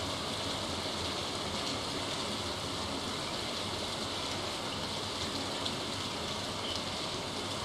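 Steady rain falling in a farming video game, a constant dense hiss without breaks, even and moderately loud, with no voices over it.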